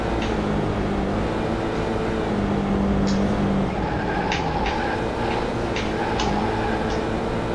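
A Corvette C5 in a racing video game drones with a steady, loud engine note that rises and eases as the throttle goes in and out, with faint ticking clicks over the top.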